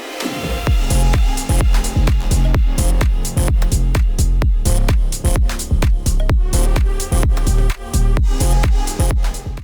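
A repeating synth bass pattern with a filter sweeping down and back open, steady pulsing notes playing continuously without any voices.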